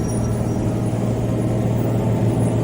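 A bus engine approaching along a main road outside a jail, a steady low rumble with a deep humming drone that holds at an even, moderate level throughout, with no voices.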